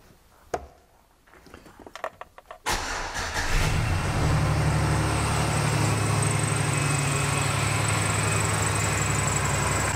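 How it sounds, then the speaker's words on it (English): A 2008 Chevrolet Silverado pickup with a rough-running, shaking engine cranks over after a few clicks and clunks, catches, and settles into a loud, steady idle that holds for the rest of the clip. "So let's get this truck started up."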